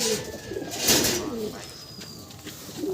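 Madrasi pigeons coo softly in a loft, a few low murmuring calls overlapping at moderate distance, with faint background noise.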